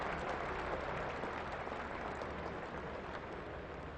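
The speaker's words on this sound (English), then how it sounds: "Nasser Hussain gets the applause, perhaps for getting off the mark." A cricket crowd at a 1996 England versus India Test match applauds in a steady, dense wash of clapping that sounds distant and fades slightly toward the end.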